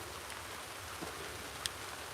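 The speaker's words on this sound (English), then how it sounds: "Yo, it's raining, man." Steady rain falls outdoors as a constant soft wash, with a couple of faint drop taps standing out briefly.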